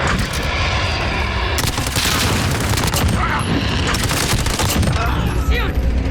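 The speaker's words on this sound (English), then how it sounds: "Striker, we're taking some fire." Sustained automatic gunfire and bursts in the Call of Duty Modern Warfare video game, loud and dense throughout, with booms, mechanical clatter and radio-style voices talking over the shooting.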